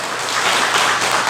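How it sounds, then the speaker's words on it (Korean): A church congregation applauds during a Sunday worship service, a dense, loud wash of many hands clapping together that swells slightly over its brief span, with no voices. "하나님께 영광의 박수 돌려드립시다."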